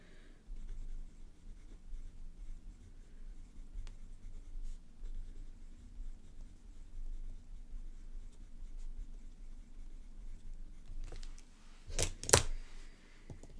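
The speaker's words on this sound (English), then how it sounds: "So this is the Tombow Monograph mechanical pencil." A Tombow Monograph mechanical pencil scratches softly across paper in steady close strokes, with a few sharper, louder scribbles near the end.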